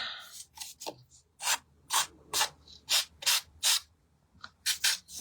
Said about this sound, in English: Let's just get the little file out, because that card is a little bit fluffier than the rest.